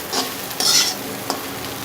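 Raw banana and lentil usili stir-fries in a pan, with a brief sizzle and a couple of close scraping spoon strokes over less than two seconds.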